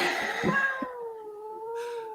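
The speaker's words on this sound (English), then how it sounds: "That is not a happy cat, dude." A single long, wavering cat yowl rises and falls, up close, with some background noise at the start.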